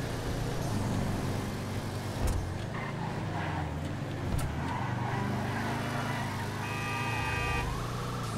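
A Willard Eudora lowrider in GTA Online cruises and corners with a steady, close engine drone, its pitch rising and dipping through the turns, and a couple of brief knocks along the way.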